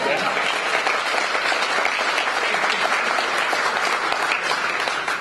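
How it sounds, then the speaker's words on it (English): Applause fills a banquet dinner hall at Caesars, many diners clapping together in an even, dense patter that holds at a steady level from start to finish. "Clapping is allowed."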